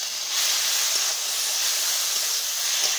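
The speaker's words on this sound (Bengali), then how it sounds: "লবণ আর হলুদ দিয়ে কচুর পাতাগুলোকে ভালোভাবে ভেজে নিচ্ছি" Taro leaves fry in a pan with salt and turmeric, a steady bright hiss and sizzle that holds unbroken for a few seconds with no talk.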